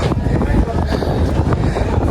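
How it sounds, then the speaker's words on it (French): Strong wind in Italy buffets the microphone with a steady, rumbling roar, while voices are faintly audible beneath the gusts. "Oh le vent, ça fait du bien."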